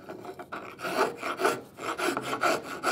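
A hand rasp shapes a wooden saw handle in repeated rhythmic strokes, about five or six rough scraping passes close up, each swelling and fading with no voices.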